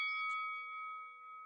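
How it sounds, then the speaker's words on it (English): A single bell rings with a clear, sustained tone that hangs steadily and fades only slightly, faint and heard alone. "Is that bird dinging the bell?"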